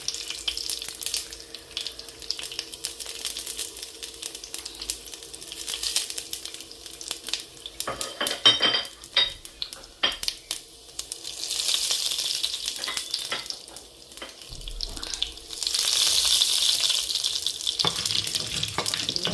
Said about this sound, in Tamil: இது வதங்குறதுக்கு கடுகு பெருஞ்சீரகம் கொஞ்சம் வெந்தயம்